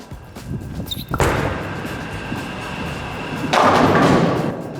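A heavy Hammer Maximum Effect bowling ball rolls in with a low rumble, then a sharp crash of pins scattering, followed by a second clattering burst as pins settle, with a dead pin among them.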